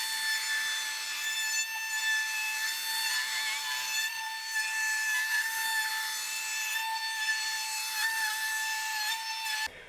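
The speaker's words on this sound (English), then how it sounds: "the first thing I need to do with mine is I need to flatten it" A power tool flattens a giant wood slab with a sustained high, whining tone and a rough cutting rasp, loud and steady for the whole stretch before cutting off at the end, no talking.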